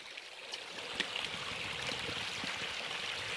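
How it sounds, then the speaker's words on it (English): Forest creek water flowing steadily and close by in winter woodland, with a continuous broadband rush and small splashes as hikers cross; no talking. "Crossing another creek."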